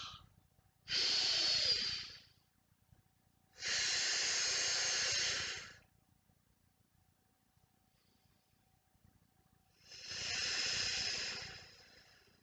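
Three long, breathy exhalations at steady intervals during a Pilates workout, each lasting about a second or two, close and fairly quiet, with near-silent pauses between them and no talking.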